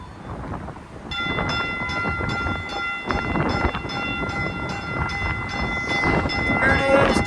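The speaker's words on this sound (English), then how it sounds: "here's Caltrain 425 about to depart." Caltrain 425, a northbound limited-stop commuter train at Menlo Park, pulls out with a loud rumbling roar, steady rail clatter and ringing tonal squeal that builds toward the end.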